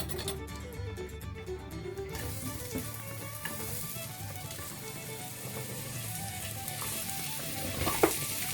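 Chopped vegetables for a vegan Irish stew fry in a pot, giving a continuous even sizzle close by, with a faint tap of a utensil near the end.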